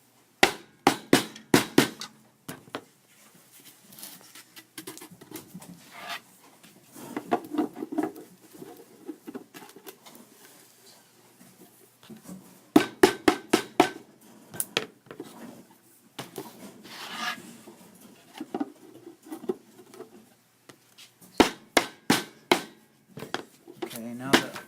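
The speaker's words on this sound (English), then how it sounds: "just tap it into place with a rubber mallet" Wooden dowels are tapped into place with a rubber mallet while assembling a display case, giving sharp, close taps in quick clusters separated by quieter handling and shuffling sounds.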